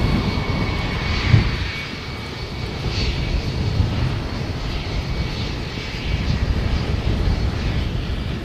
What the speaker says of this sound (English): We've got the ATR coming in